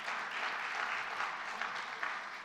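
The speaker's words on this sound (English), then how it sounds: "You deserve more applause, but you can applaud all night." Audience applause after a talk on global order, a dense steady wash of many hands clapping at moderate distance, continuous for the whole stretch with no voices on top.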